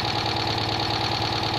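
A Citroën 2CV engine with loosely set valve clearances idles close by, giving a steady, even pulsing beat with a light tappy clatter running through it.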